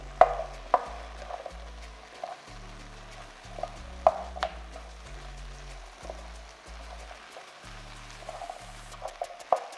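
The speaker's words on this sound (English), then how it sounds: "Now I'm adding the potatoes. Mixing it well together." Scraping and clinking of a utensil stirring potatoes in a frying pan, irregular taps and scrapes over a soft frying hiss, with faint low music underneath.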